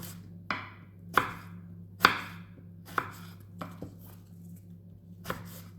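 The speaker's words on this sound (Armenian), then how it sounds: "Կտրատում ենք կես վարունգը։" Knife chopping half a cucumber on a cutting board: about eight crisp, separate chops at an uneven pace, close and fairly quiet over a low steady hum.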